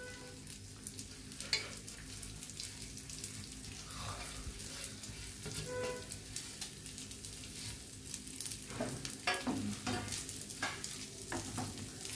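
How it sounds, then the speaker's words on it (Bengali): A spoon scrapes and stirs rice in a pan over low heat for Basanti pulao, making soft, irregular clinks and rustles over a faint, steady background hiss, fairly quiet and close, with no talk. "একটু নেড়ে নিচ্ছি।"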